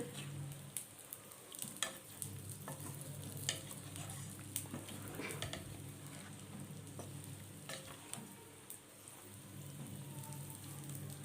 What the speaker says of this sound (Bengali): এইভাবে এটা আর একটু নেড়ে দেব।